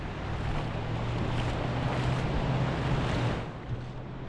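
Waves washing onto Flagler and Daytona beaches in Florida, a steady broad surf wash with some wind noise on the microphone that eases off near the end.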